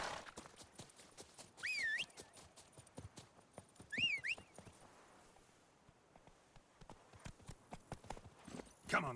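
Hooves of the horse Roach clip-clopping in The Witcher 3: Blood and Wine, a steady walking rhythm of distinct knocks throughout, close by, with brief game sounds over it.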